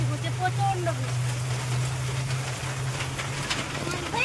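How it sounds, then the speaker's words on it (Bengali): Heavy monsoon rain pours down in a steady hiss around a small e-rickshaw driving through flooded village roads. A low motor hum runs beneath it, and a few sharper splashes and taps stand out from the constant downpour. "প্রচন্ড বৃষ্টি পড়ছে, প্রচন্ড বৃষ্টি"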